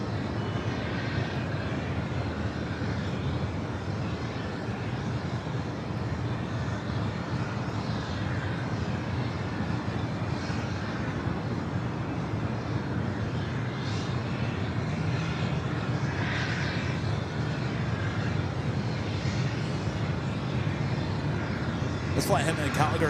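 A WestJet Boeing 737-800 at an airport on runway 24 left gives off a continuous low jet engine rumble that holds steady throughout, moderately distant, with people talking over it.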